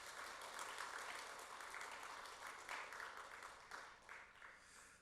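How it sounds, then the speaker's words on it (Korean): Church congregation applauding teachers during a service, dense clapping that holds steady and then thins and tapers off near the end, somewhat distant and soft. "우리 박수하겠습니다."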